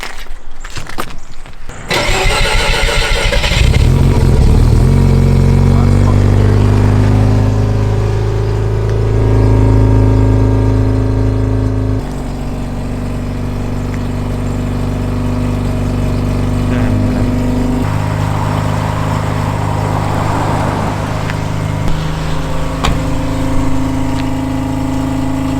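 A car engine cranks briefly, catches and roars to life, then revs and settles into a loud, close idle, with a few further revs and changes in pitch over a steady rumble.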